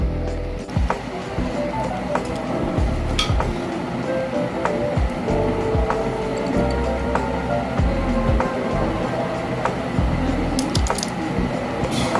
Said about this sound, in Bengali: এখন আমি ডিজাইন করে কেটে নিব